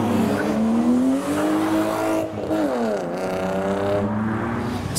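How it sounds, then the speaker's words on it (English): Loud car engines roaring and revving as cars accelerate away from a car meet, pitch rising and falling with gear changes, with a brief tire squeal. "it's got to that time of the evening to watch cars leave"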